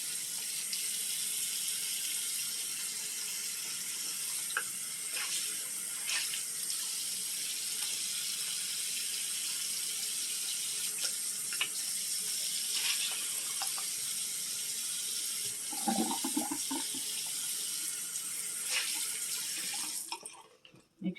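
Hot tap water runs steadily into a sink, a continuous hissing flow with a few clinks and splashes near the end.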